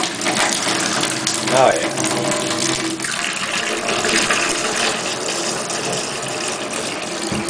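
Water rushing steadily through household plumbing near a washing machine drain, a continuous loud gushing wash that fills the whole span, with a brief voice over it.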